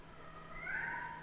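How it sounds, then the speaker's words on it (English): A cat meows in a drawn-out, strained cry that rises and swells in the middle, fairly faint against a steady low hum. "The cat's meowing though"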